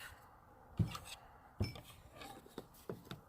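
Thick walleye batter stirred in a bowl with a spoon, quiet close scraping and soft knocks against the bowl in a loose rhythm of four or five strokes.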